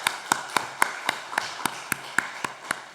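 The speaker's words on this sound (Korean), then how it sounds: "박수 한번 쳐드리도록 하겠습니다." Slow, spaced claps in a church sanctuary, about a dozen sharp taps roughly every quarter second, fairly close and moderately loud, with no talking over them.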